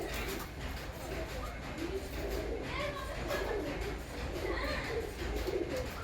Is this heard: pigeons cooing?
yes